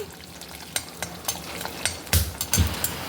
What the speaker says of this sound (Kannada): ಸಾಸಿವೆ ಹೊಟ್ಟಿತಾ ಇತ್ತು ಬೆಳ್ಳುಳ್ಳಿ ರೋಸ್ಟ್ ಆಯ್ತು